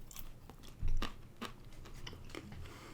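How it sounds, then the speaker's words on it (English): A whole Almond Joy candy bar with chocolate, coconut and a crunchy almond on top is chewed close up, giving a few soft crunches and bites with one louder crunch near the start, and no talking. "I'm going to pop the whole thing in because it's got the almond and I don't want to bite that in half."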